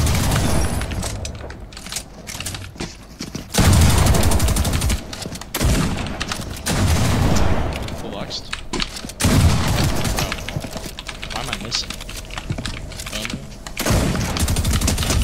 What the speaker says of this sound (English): He has a turret.